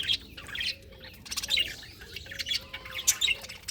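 Pet birds eating water spinach give bright, quick chirps and occasional squawks in scattered bursts, fairly close, over a low background hum.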